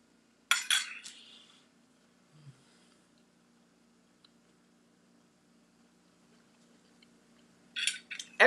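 A knife cuts a stuffed breakfast pepper filled with egg and turkey sausage in half, giving a few brief, close metallic clinks and scrapes against the dish at the start and again at the end, with quiet gaps between.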